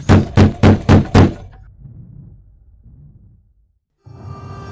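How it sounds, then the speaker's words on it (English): Five quick, heavy knocks pound on a front door in a secluded house, loud and evenly spaced, followed by a low rumbling pause and muffled thumps. "He's banging on the door."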